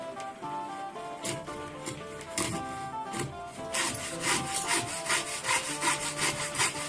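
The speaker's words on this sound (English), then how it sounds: "I am working on cutting some notches in the blade so the lighter fluid can seep in and hopefully burn for a bit longer." A handsaw cuts notches into a wooden sword blade, each quarter-inch-deep cut made as a run of rhythmic rasping strokes, close and moderately loud with no talk.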